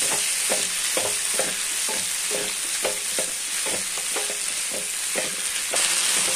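Capsicum for curry sizzles and fries steadily in a pan, with a regular pattern of stirring scrapes roughly every half second under the constant hiss, no talking.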